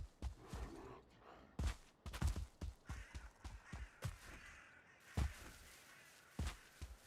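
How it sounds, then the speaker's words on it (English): Crows caw repeatedly in a video game, a series of harsh calls at varying distances over quiet ambient game sound. "A lot of crows."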